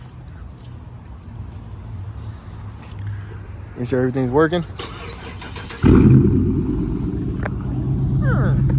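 A Dodge Charger's engine cranks and catches, then settles into a loud, steady idle that gradually swells; a person speaks briefly beforehand.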